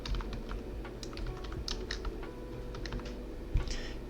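Keys on a computer keyboard tap out a password, with irregular quick clicks close up over a low steady hum and one sharper knock near the end.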